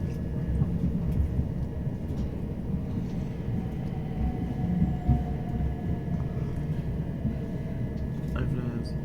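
A steady, low rumble and rattle of a Southern passenger train running between Victoria and London Bridge, heard from inside a carriage at moderate level throughout, with faint squeaks and no clear talk.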